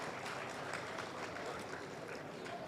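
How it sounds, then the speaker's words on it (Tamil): Audience applause fills a hall at a speech event, a steady dense clapping that holds at an even level throughout without a clear start or finish. "கைத்தட்டை கொடுக்குமாறு கேட்டுக்கொள்கிறேன்."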